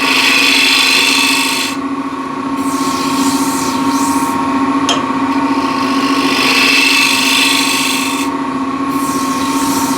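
A wood lathe spins steadily while a shear scraper works a mahogany plate toward the rim, a constant loud motor hum with bursts of hissy cutting noise coming and going throughout and no speech.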